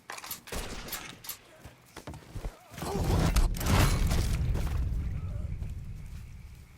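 A Mafia III shootout: scattered close gunshots early, then a dense, sustained roar of overlapping gunfire and crossfire that slowly fades, with no voices heard.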